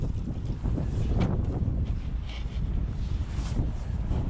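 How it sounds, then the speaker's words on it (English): Strong outdoor wind blusters across the microphone during street scrap collecting, a loud buffeting roar with rising and falling gusts and some rustling, steady throughout. "that's so windy today"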